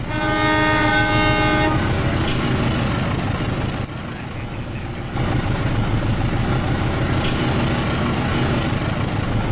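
A train rumbles past steadily in a train simulator game, opening with a loud horn blast, then continuous rolling noise and wheel clatter up close.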